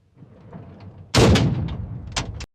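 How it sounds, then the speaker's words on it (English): A tank gun fires as a war sound effect: one loud, sudden boom with a rumbling tail that rolls on for over a second and ends abruptly, heard with no talk. "But instead of penetrating, the shot ricocheted."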